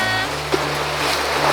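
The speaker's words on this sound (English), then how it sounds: "There's the towboat towing us." A boat towed by a towboat off Catalina rushes through waves: a loud, continuous wash of water and wind with a low engine drone underneath.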